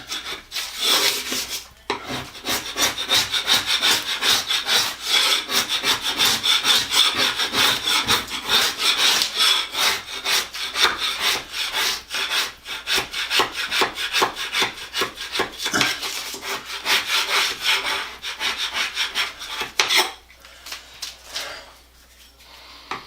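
A wallpaper removal tool scrapes wallpaper off a wall in steady, rapid rasping strokes, loud and close, continuing for a long stretch before a brief pause and a softer finish.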